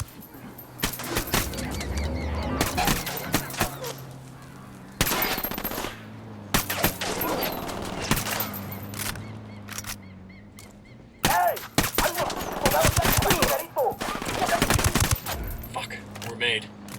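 Rapid automatic gunfire bursts in Ghost Recon Wildlands, loud and close, coming in several volleys separated by short pauses, with game voices talking at times in between.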